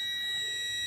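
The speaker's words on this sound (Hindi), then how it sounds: "यहाँ पर आप बजर के आवाज़ सुन पा रहे होंगे" A multimeter's continuity buzzer gives a steady, high-pitched electronic tone for about a second during repair of a Sansui LED TV board with a white screen fault. It is clear and continuous, with no talk over it.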